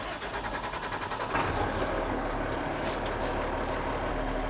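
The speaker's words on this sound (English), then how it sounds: "start the truck." A Class B CDL municipal public works truck engine cranking and catching, then settling into a steady, loud diesel idle rumble heard up close with no talk.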